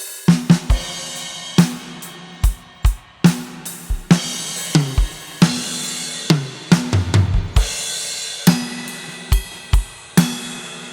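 A one-measure drum fill opening on a crash cymbal, played within a slow groove at a steady tempo: regular kick and snare beats, a busy fill, then crashes ringing out, close and loud without voices.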